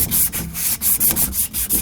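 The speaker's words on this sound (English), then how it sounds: "you wouldn't want to use a really coarse grade of sandpaper" Sandpaper rubbed back and forth over a small copper plumbing pipe during a kitchen remodel, giving a steady run of close, rhythmic scratchy strokes with short pauses between them.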